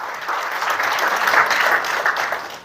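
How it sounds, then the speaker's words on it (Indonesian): A church congregation applauds during a sermon, a dense, sustained burst of many hands clapping together that swells and then tapers off. "Tepuk tangan bagi Yesus."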